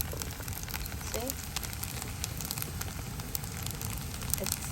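Maikadang rice crust crackles and sizzles in a pot as it cooks, a steady close frying hiss with scattered pops and faint voice sounds in the background.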